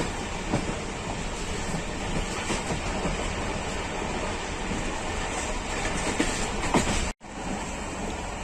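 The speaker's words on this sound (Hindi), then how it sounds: "ट्रेन फर्राटे भरते हुए अगली मंजिल कोटरी जंक्शन की तरफ गामजन।" Pakistan Railways Allama Iqbal Express passenger train running at speed, a steady dense rumble and rattle of wheels and carriages throughout, with a brief dropout near the end.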